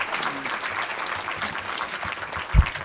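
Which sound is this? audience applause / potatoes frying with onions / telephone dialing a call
audience applause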